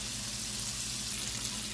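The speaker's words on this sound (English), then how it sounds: "Now my chicken is done frying." Steady, soft sizzling of chicken frying in hot oil in a pot, a continuous crackling hiss with no voices.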